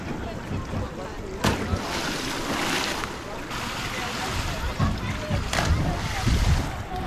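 At an outdoor swimming pool in a small water park, a diver leaps off a springy little diving board and splashes in, amid ongoing water noise, wind and nearby voices.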